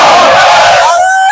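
A crowd at a Muslim Tazia procession protest shouts back in unison to a takbir slogan, one loud, sustained collective cry of many voices that swells and then trails off.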